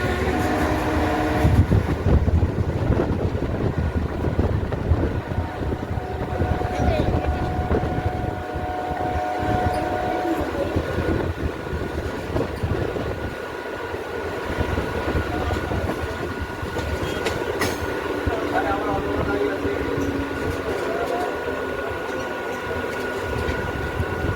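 Local passenger train rolling from Krishnanagar City toward Amghata Halt, a steady loud rumble of wheels on rails with rattling carriages and a constant hum, continuous throughout with no talk.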